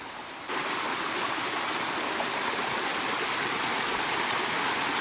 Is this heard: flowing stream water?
yes